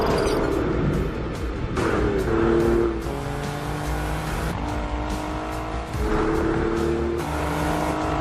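An Alfa Romeo Giulia Quadrifoglio with its twin-turbo 2.9 V6 accelerates hard, its engine note climbing in repeated rising sweeps through the gears, loud and close.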